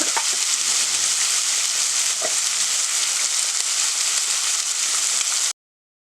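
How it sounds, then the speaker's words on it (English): Bacon fries in a hot pan for carbonara, giving a loud, even, continuous sizzle with a couple of faint knocks, then cutting off abruptly. "Spread your bacon out evenly and fry until it's about a minute or 2 away from being crispy."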